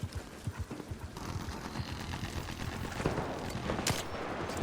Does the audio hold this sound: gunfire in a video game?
yes